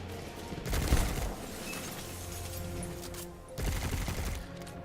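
Rapid bursts of Ikelos SMG fire in Destiny 2 crackle loudly in two dense volleys, with a shorter lull between them.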